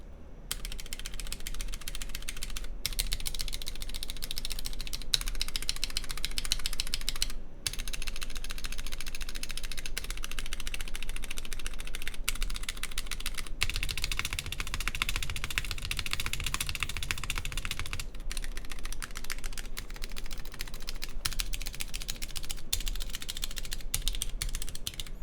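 Mechanical keyboard with thick ABS keycaps typed on at a steady pace, a continuous stream of close clacky keystrokes with a few brief pauses, under a low hum.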